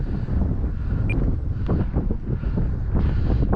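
Strong gusty wind of about 18 mph at an RC warbird airfield, buffeting the microphone as a loud continuous low roar that rises and falls in gusts, with no speech.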